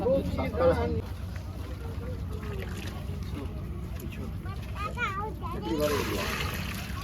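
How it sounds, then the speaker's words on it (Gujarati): Buckets of water are tipped into a large cooking pot for Kutchi khari bhaat made for 250 people, giving splashy gushes under ongoing chatter from people around the cooking area. "ચાર બકેટ પાણી આવી"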